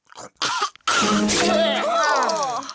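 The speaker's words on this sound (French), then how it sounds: "quand on tousse, on met sa main devant sa bouche" A short cough or throat-clearing at the start, followed by a person talking loudly up close.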